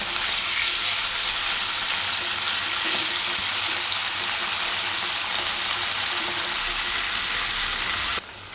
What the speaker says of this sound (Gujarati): થોડીક વાર તેલમાં એને શેકી દે, થોડોક આનો કલર ચેન્જ થાય એવું।